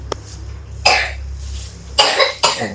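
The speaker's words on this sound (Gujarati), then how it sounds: "થોડીક ખાંસી છે" Three rough coughs from a sick child in hospital, spaced apart over a low steady hum, fairly close and loud.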